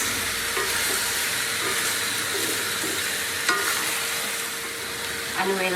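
Potato and carrot pieces fry in a pan for chicken curry, a continuous close sizzle with occasional stirring scrapes and clinks, holding steady from start to finish.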